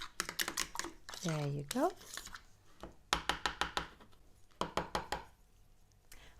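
A fork taps quickly against a bowl while eggs and oregano are beaten, in bursts of sharp rhythmic clicks close by. A short voice is heard between the bursts.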